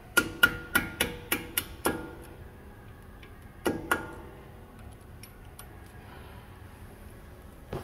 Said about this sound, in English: we're going to hit them out with a little punch tool